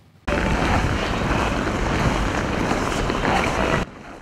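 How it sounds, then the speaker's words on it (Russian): Steady, loud rush of wind with a hollow, howling roar, buffeting the microphone for a few seconds before cutting off abruptly; no voices. "Завывание ветра сегодня"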